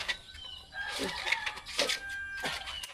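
A rooster crows repeatedly, several drawn-out calls in a row at moderate distance, with no talking.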